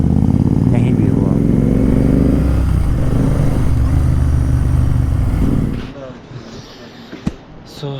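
A Royal Enfield GT 650 motorcycle rides a rough off-road mountain track in Himachal, engine droning loud and close with a steady rumble, fading toward the end to quieter clatter and a sharp knock.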